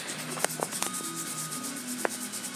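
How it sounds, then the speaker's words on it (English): A Scotch-Brite pad scrubs an annealed copper gasket back to bare pink metal, giving a steady, close, rhythmic abrasive rubbing with a few sharp scraping clicks and no talk. "I'm going to take a Scotch-Brite pad and buff it up to pink."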